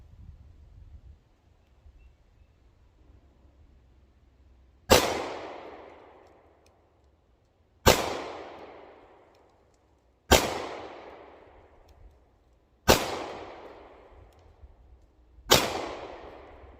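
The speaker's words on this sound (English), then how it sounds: "next is going to be 5 shots, single action from about 10 yards" Five single-action shots from an HK P30S pistol at about ten yards, each a loud sharp crack with a ringing decay, spaced a few seconds apart after a quiet start.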